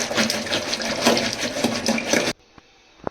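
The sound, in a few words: churning fresh curd with a wooden churner for lassi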